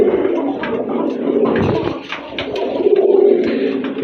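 Several pigeons, including fancy Rajgolla breed birds kept in a loft collection, coo continuously in soft, throaty, overlapping calls close by, with no talking.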